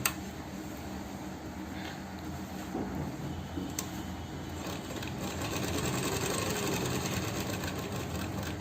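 Sewing machine stitching pockets onto a velvet pheran, a steady mechanical whir running throughout at moderate level with a few small clicks, growing slightly louder toward the end, no voices.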